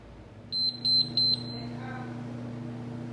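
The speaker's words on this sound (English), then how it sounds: "The classic 3 beep special." A Hoshizaki ice machine sounds its three-beep error alert, three clear high electronic beeps in quick succession over a steady mechanical hum.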